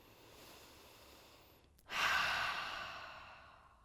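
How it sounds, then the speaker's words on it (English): A single deep breath during a yoga practice: a faint, soft inhale, then a sudden, fuller breathy exhale that slowly fades, close and quiet with no talking. "Let's take 2 more breaths."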